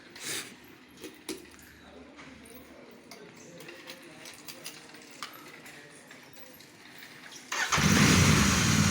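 A Royal Enfield Interceptor 650 twin-cylinder motorcycle, which only stays running with enough petrol, bursts loudly into life near the end after quiet background noise and scattered faint clicks.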